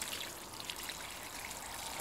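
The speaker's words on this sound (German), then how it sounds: "Und dann wässere ich die Eimer ausreichend." Water poured over potted plants growing in buckets, a steady soft trickling and splashing stream that runs continuously and close by with no speech.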